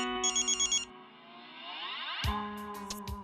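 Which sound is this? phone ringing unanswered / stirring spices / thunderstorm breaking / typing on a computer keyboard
phone ringing unanswered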